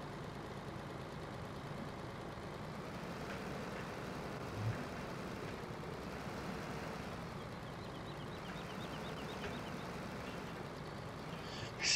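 Scania truck engine in Landwirtschafts-Simulator 15 labouring up a steep hill, a steady low drone with a broad rumble that holds at a constant level for the whole stretch, with no talk.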